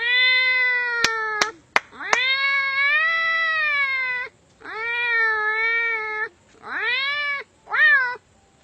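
A voice imitates a cat mewing while it eats, giving a string of drawn-out, whiny meows with a few sharp clicks at the start. The meows are close and fairly loud and come in bursts separated by brief pauses.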